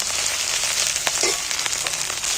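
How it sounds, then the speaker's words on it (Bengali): Ginger and garlic fry in hot oil with a close, continuous sizzle and a few faint stirring taps. "রসুনটা ভেজে নিচ্ছি"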